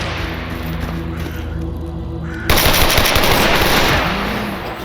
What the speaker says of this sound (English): I'm trying to fucking shoot him through the window.